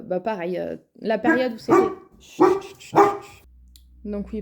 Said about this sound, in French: pardon pour les aboiements